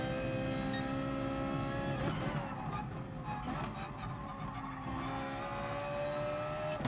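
A Ferrari 488 racing around a track in the GT Sport video game revs hard with a loud, screaming engine note, rising and shifting continuously over roughly seven seconds with some tire noise mixed in.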